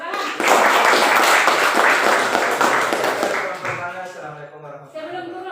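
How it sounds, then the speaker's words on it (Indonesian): Classroom of students clapping hands during a math lesson, a loud sustained burst of applause for several seconds that tapers off as a voice starts talking. "Tepuk tangan."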